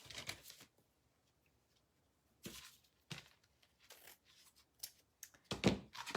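Material being cut during a pumpkin redesign craft, likely paper or ribbon folded in half, gives a few short rustling, crinkling snips in bursts separated by quiet pauses, close and fairly faint.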